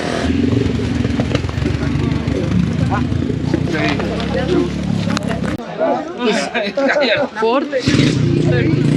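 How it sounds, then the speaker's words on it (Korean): A motorcycle climbs uphill on the way to Mount Bromo in Indonesia, its engine a loud, rough drone for about five seconds before dropping away as voices chatter nearby. "걸어서 한 25분 되는 거리를 지금 오토바이로 올라온 거예요"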